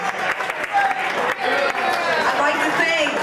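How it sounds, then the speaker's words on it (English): A club audience at a live rock and blues show applauds the staff with a broad, continuous wash of clapping and crowd noise that holds steady for a few seconds. "let's have a round of applause for the staff."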